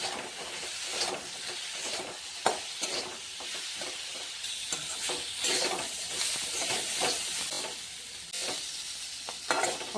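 Spices (turmeric, coriander and cumin powder) sautéed in a pan with broad beans and potato for a fish curry: a quiet, steady hiss and sizzle punctuated by irregular stirring scrapes.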